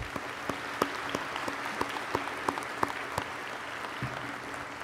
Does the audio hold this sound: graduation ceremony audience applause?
yes